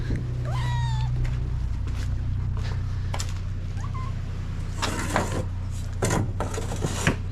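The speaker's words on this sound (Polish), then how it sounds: "muszę kota złapać, bo kot cały czas tu nadzoruje" A house cat meows several times indoors in the Philippines, rising and falling calls standing out close over a steady low hum, with knocks and clatter near the end.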